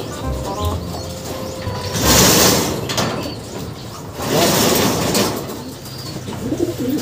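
Pigeons released into the air, with two loud bursts of wing flapping and fluttering close by, separated by a quieter stretch and ending with lighter rustling.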